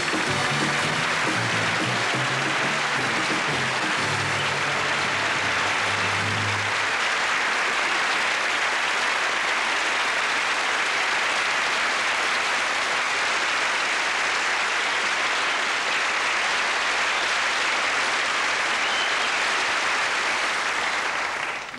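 A studio audience at a 1978 Christmas television variety show breaks into loud, sustained applause. A brief musical tail fades out at the start, and the clapping then continues steadily and densely with no pause.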